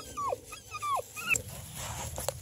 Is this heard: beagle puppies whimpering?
yes